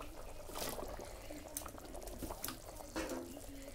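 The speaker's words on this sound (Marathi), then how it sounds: "आता शेंगा टाकून घेऊ त्यात" Drumstick pods dropped into a simmering mutton curry, a soft wet bubbling with a few splashy plops and stirs, quiet and close, with no talk.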